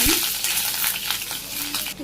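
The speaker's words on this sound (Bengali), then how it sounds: "পেঁয়াজটা ভাজি করে" Chopped onions frying in oil, a steady close sizzle broken by light scrapes and clinks of a spatula stirring in the pan.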